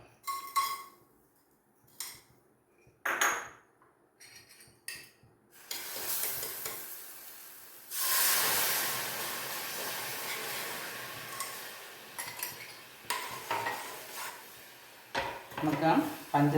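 Sugar tipped into a heavy, thick-bottomed pan to make caramel for a pudding, giving a few short clinks and scrapes, then a grainy rushing pour and scattered taps, near and fairly quiet.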